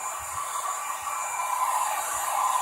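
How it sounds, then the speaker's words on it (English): A hair dryer blows continuously with a steady, airy whine and rushing hiss, close by and unchanging, drying paper coloured with food colouring. "at the moment I'm happy having a hairdryer"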